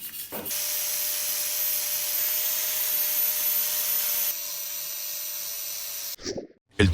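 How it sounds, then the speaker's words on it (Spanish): Steady grinding or sanding hiss as the welded metal surfaces of a homemade stove are smoothed, loud and continuous for several seconds, then dropping in level before cutting off, with a brief scrape at the end. "Y volvemos a alisar todas las superficies."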